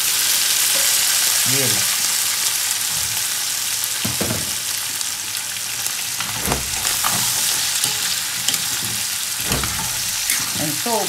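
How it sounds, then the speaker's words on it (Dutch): Potatoes fry in a pan with a steady, loud sizzle for a dish of Surinamese flat beans and dried fish, broken by occasional stirring and scraping knocks, and a voice briefly speaks over it. "Dan ga ik mijn aardappelen zetten. Dan ga ik die mee bakken."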